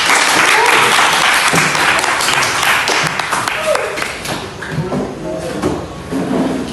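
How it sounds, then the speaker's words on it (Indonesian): Applause from a classroom audience after a student presenter finishes a lesson talk, dense clapping at first that thins and becomes more scattered, with some voices and knocks mixed in. "Tepuk tangan."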